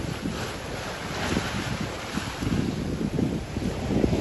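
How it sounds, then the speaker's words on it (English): Strong wind of around 20 knots buffets the microphone aboard a sailboat on the Great Barrier Reef, a loud, gusting roar mixed with the wash of rough sea. "and 20 knots of wind"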